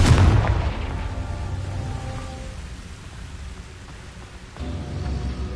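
Confringo blasting spell explosion in Hogwarts Legacy, a loud booming burst at the start that decays into a rumbling tail, followed by a second swell of low rumble.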